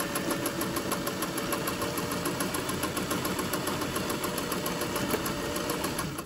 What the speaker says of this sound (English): this is a bit of a chore to remember how to sew on a regular domestic machine